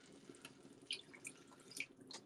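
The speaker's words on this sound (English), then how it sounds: "So let's add the water in" Water poured into a cooking pan of lamb ragu, 150 millilitres, making a soft, quiet trickle and a few faint splashes and drips over a couple of seconds.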